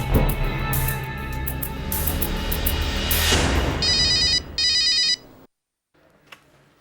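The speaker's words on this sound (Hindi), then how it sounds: "मॉम, विक्रम का फोन है" A telephone rings in a dramatic TV serial scene, a loud electronic ringtone pulsing in repeated bursts over background music, then cutting off into near silence with a faint click.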